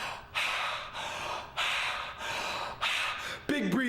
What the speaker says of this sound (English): Big breathing.